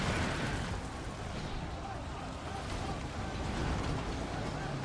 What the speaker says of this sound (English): The sound of the cannons.